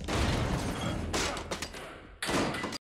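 Gunfire from a sci-fi TV episode, Alien: Earth, loud dense blasts and thuds filling the clip with a brief lull before another burst, harsh and close.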